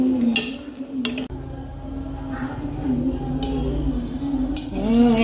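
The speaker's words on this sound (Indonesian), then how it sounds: "Ini airnya sudah mendidih." Water at a steady rolling boil in a cooking pot on a home stove, a continuous bubbling hiss with occasional clinks of utensils and faint talk nearby.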